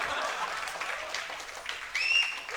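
A crowd keeps clapping for winning hackathon teams at a closing ceremony. The applause is a steady, moderately loud wash of hand claps, with a brief sharp whistle or squeal near the end.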